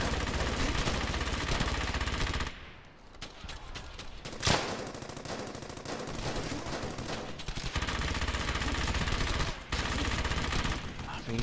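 Machine gun fire in Brothers in Arms: Hell's Highway, a World War II shooter: dense, sustained automatic bursts and scattered shots rattle on, loud and close, with a short lull midway and soldiers' voices shouting at times.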